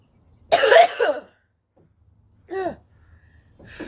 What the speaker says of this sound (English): it's also making me cough a lot